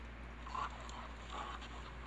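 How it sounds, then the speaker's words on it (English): A wolf pup whimpers and pants softly, giving two faint breathy whines over a low steady background hum, with no talk. "Pup or not, that's a wolf."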